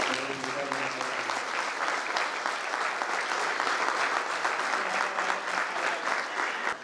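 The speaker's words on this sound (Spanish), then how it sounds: "un aplauso muy grande para ellas" Loud, sustained applause from a large audience at a community event honoring girls and their teachers, steady and dense throughout with a brief voice audible near the start.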